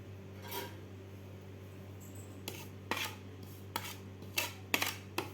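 A small spoon clinks and scrapes in a bowl, mixing half a spoon each of coriander powder and dry mango powder into a spice masala for mirchi bhaji; a few sharp, irregular taps over a faint steady hum.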